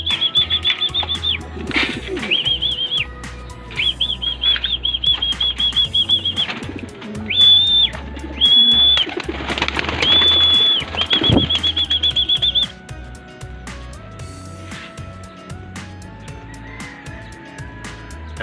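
Racing pigeons burst into flight with loud, rapid wing flapping close by, under a steady high electronic beeping, then the flapping gradually thins out.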